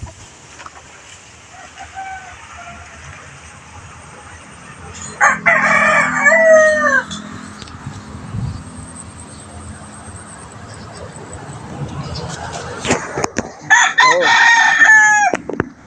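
Sweater gamefowl roosters crowing loudly nearby, two long cock-a-doodle-doo calls about eight seconds apart, with some clucking and someone speaking in the quiet stretches between.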